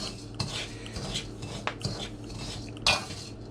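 Wheat berries roasting in salt are stirred in a hot pot, producing scattered scraping clinks and gritty rattles of utensil on metal, with one sharper clatter near the end.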